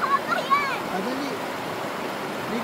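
Rushing river water in the Pugo river, flowing steadily as a close, continuous wash, with people's voices and excited chatter over it at the start.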